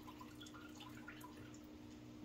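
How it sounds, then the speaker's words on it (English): Water drips and trickles out of a full aquarium gravel cleaner siphon, a faint, steady wet patter over a low background hum with no talking. "Let me just let some more water drip out."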